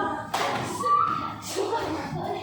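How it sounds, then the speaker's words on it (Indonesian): A group of schoolchildren does a rhythmic spirit clap in short bursts, mixed with shouting voices and some shuffling in a room. "Tepuk semangat tiga kali"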